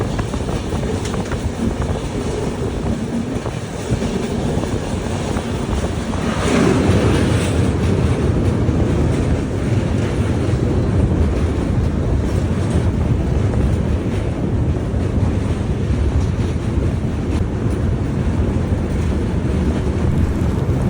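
The Saraighat Express rolls across the long Brahmaputra rail-cum-road bridge, a loud continuous rumble and clatter of wheels and carriages with wind buffeting the microphone, growing heavier partway through.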